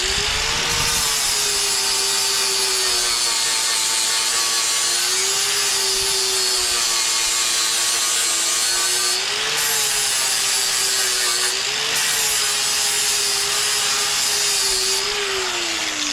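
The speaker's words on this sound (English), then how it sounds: "Little sander flat disc." A small sander fitted with a flat disc stripping paint, a loud continuous high-pitched whine and grinding rasp that holds steady throughout, with brief dips in pitch as the disc bears into the surface.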